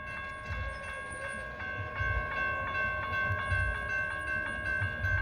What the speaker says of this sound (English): Here comes another northbound.